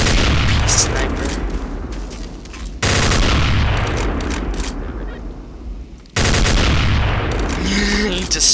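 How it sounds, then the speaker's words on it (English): Sniper rifle shots ring out in Garry's Mod, loud bursts that cut in sharply at about 3 and 6 seconds over dense, continuous game noise and rumble. "This is an OP sniper."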